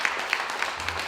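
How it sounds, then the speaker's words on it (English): At a live storytelling event, an audience gives a short, brief round of applause for a co-curator, a soft, dense patter of many hands with a few sharper claps standing out. "let's all have an applause for Ken"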